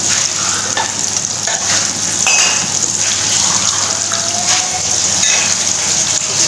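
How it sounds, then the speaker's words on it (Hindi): Banana kebabs frying in a pan, a loud, close, continuous sizzle with occasional scraping and clinks as pieces are turned, no voices. "ये देखने हमें डाल दिए हैं कबाब पैन में फ्राई होने के लिए।"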